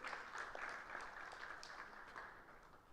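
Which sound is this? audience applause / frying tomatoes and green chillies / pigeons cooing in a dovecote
audience applause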